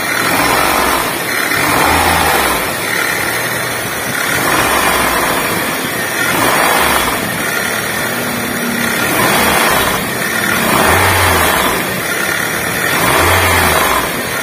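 A car engine revs repeatedly, rising and falling in surges, with a metallic rattling clatter underneath, loud and close, no voices.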